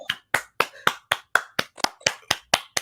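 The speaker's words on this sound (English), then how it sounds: "I got to clap for this" Hands clap sharply and steadily, about a dozen crisp, close claps in an even rhythm with short silent gaps between them, no speech over them.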